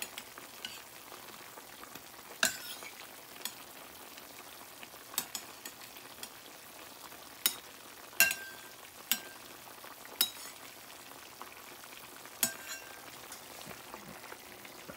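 Ilocano igado frying in a pan while being stirred, a steady sizzle under scattered sharp clinks and scrapes of the utensil against the pan, spaced irregularly.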